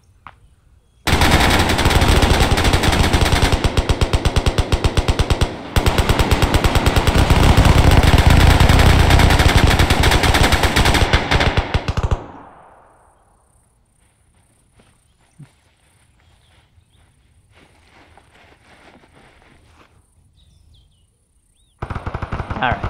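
Sustained machine-gun fire in the military video game ArmA 3, a loud, nearly unbroken burst lasting around ten seconds before cutting off, followed by quiet ambience and insect-like chirps, then another burst starting at the end.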